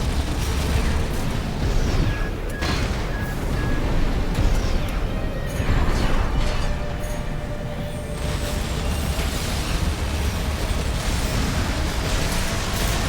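Grenade explosions in the mech combat game Armored Core 6: dense, loud blasts and rumbling booms stacked over continuous in-game mechanical noise, with sharp bursts recurring throughout.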